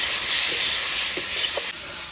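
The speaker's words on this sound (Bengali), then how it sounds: "এরপরে লবণ দিয়ে দেব, হলুদ দিয়ে দেব। এবার নেড়ে চেড়ে ভালো করে কষিয়ে নেব।" Potatoes sautéing in a pan with salt and turmeric, a steady close sizzle and hiss with a few faint stirring scrapes, cutting off sharply near the end; no talking.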